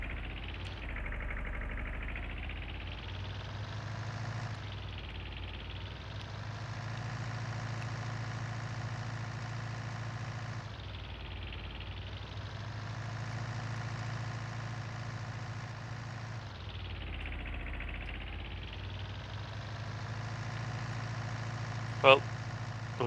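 A tractor engine in Farming Simulator idles steadily with a low rumble, its pitch slowly rising and falling in repeated waves; a brief click near the end.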